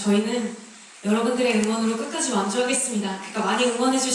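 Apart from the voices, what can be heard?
No everyday noise stands out behind the speech.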